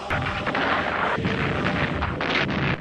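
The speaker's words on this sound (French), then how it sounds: "L'artillerie navale des cuirassés, croiseurs et destroyers américains pilonnait la côte pour détruire les champs de mines et les dernières défenses anti-chars." Naval artillery from American battleships, cruisers and destroyers bombarding the Provence coast during the landings, heard as a dense, loud, continuous rumble of booms and blasts with no clear gaps.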